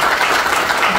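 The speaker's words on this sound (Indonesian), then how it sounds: "Tepuk tangan." An audience at a hospital event in Majenang, Cilacap claps for about a second, a loud, even burst of applause with no voices on top.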